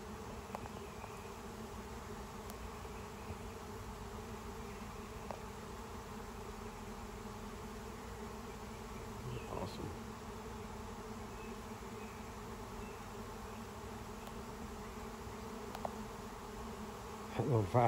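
A honeybee swarm moves into a five-frame nuc box, a dense, steady buzzing drone of many bees that holds evenly throughout, close and continuous, with a few brief louder bumps near the end.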